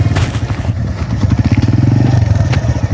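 Motorcycle engine running steadily and close, with a throbbing low rumble and rattle, on a mountain road near Saiful Muluk Lake in the Naran valley.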